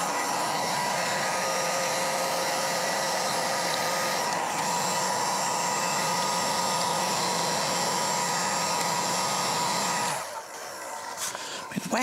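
A heat gun blows steadily for about ten seconds while warming wax on a guitar amplifier, a loud, even whooshing roar close to the microphone that then cuts off into quieter handling noise.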